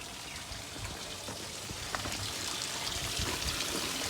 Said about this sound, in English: water's pouring through at the moment